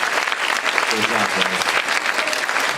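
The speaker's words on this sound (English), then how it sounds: "Round of applause." Audience at a school spotlight concert applauding student performers, sustained full clapping throughout, with a voice speaking over it partway through.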